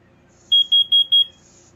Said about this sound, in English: It does do the 3 beeps.